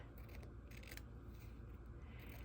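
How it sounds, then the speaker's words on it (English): Scissors cutting the bottom hem off a pillowcase, faint close snipping and fabric-shearing crunches over quiet room tone. "Now I'm going to cut off the bottom hem."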